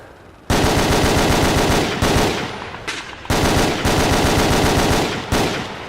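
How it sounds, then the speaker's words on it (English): Soviet-made machine guns firing in the video game Battlefield: loud, sustained automatic bursts with rapid, evenly spaced shots, broken by a few short pauses, with no talking over them. "Let's see if these Soviet-made machine guns are good for anything."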